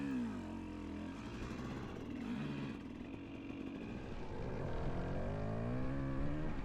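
2003 KTM 250 SX two-stroke dirt bike being ridden, its engine buzzing and rising and falling in pitch with throttle changes, heard steadily at moderate distance without talk.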